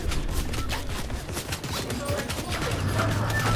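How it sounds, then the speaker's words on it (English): Rapid bursts of gunfire from a Fortnite match rattle continuously in dense clusters, with faint talk mixed under the shooting. "You got a guy shooting at you already."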